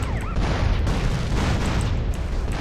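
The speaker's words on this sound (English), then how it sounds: "Just the sheer amount of explosions." Dense, continuous explosions in GTA 5, a heavy wall of booming blasts and crackling debris that fills the whole stretch without pause, loud and close.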